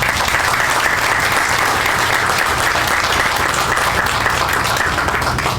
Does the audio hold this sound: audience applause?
yes